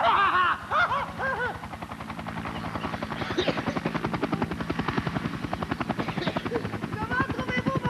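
A cartoon's new flying vehicle roars with a loud, rapidly chopping engine like a helicopter rotor, pulsing steadily and close throughout, with a voice heard briefly at the start.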